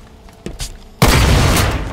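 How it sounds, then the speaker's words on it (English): A rocket explosion in the Halo 5 Forge video game, a short thump followed by a sudden loud, dense blast that roars on with a broad rumbling wash. "Freaking blue explosions."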